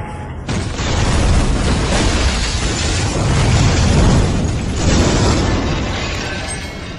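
A loud bomb explosion indoors erupts into a sustained roaring blast with rumbling debris, swelling again midway before slowly fading, with no speech.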